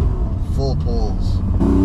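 A BMW E28 with an M30 engine, individual throttle bodies, full exhaust and standalone ECU revs hard at full pull, engine tone rising and breaking between gears, loud and close, with someone speaking over it.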